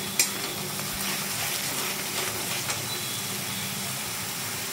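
Masala spice paste frying in a pan for fish kofta, giving a steady, moderately loud sizzle and hiss with faint clinks of stirring throughout.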